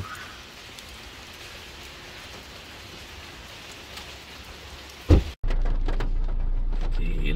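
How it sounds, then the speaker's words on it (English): Heavy rain during a road trip drums steadily as broadband hiss for several seconds, then a brief thump and a shift to a louder, duller rumble, as if a car door shut and the sound continues from inside the vehicle. "It's raining heavily."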